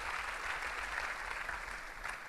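Audience applause for Chad Miguel at a university new student orientation, a soft, steady wash of clapping heard at a distance, fairly faint and even for the whole stretch.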